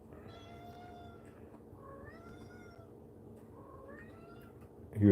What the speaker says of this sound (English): This is my begging cat.